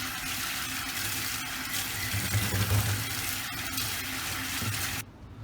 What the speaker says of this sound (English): immediately run cold water because we want to stop the cooking process